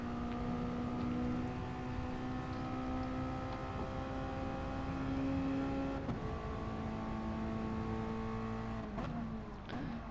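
Sportscar race car engines at Dragon Trail Gardens in a racing game: a steady, close engine drone accelerating, with pitch drops at gear shifts and another car's note layered underneath.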